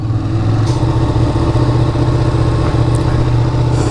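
A Ducati Panigale motorcycle idles roughly while still warm, a loud, close, uneven low engine throb with a steady lumpy pulse throughout, and no talking.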